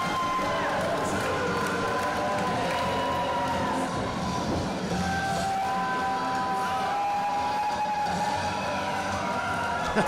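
Wrestling crowd at a Best of the West show cheers and roars for Robbie Phoenix as he enters the ring, a loud, sustained wall of voices with shouts and whistles rising over it throughout.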